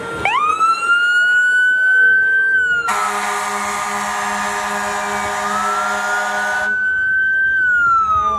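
A Minden City Fire Department fire truck siren at a Christmas parade wails close and loud, rising then holding steady, with a harsher blaring horn section in the middle before the wail returns.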